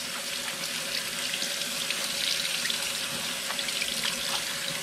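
Cold running water from a tap splashes steadily into a sink while bitter melon is rinsed, a continuous hissing wash with small irregular splashes.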